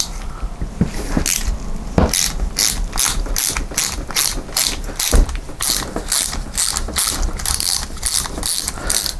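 An 8mm socket ratchet undoes the rear screws of a classic Fiat 500/126 starter motor being rebuilt, giving a loud, close, steady run of rapid pawl clicks in regular bursts over faint background noise.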